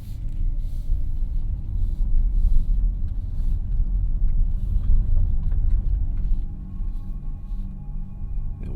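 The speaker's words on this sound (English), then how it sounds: "These big tires, you can hear the road talking to you. All these little pebbles, that is." Big tires on a Kia EV6 GT roll steadily over a pebbly road, giving a continuous low rumbling road roar with faint grit and a smooth, even texture inside the cabin throughout.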